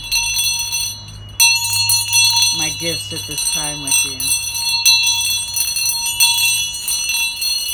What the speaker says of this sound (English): Thanks for letting us play with your bell.